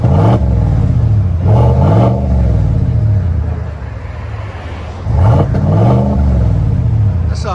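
A Chevy Silverado High Country pickup with a 5.3L V8 and Borla exhaust revs hard against its rev limiter in two long, deep, throaty blips that rise and fall, loud and close, with a lower idle rumble between them.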